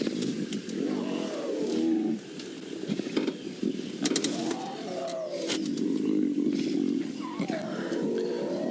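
Lion cub of a pride growling on a fresh buffalo kill on safari, with a continuous low rumbling growl and snarls rising and falling throughout, close and fairly loud.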